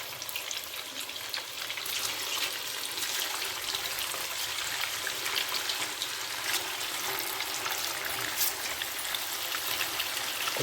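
Fish pieces fry in hot oil for a South Indian fish pickle, giving a dense, loud, continuous crackling sizzle that holds steady throughout.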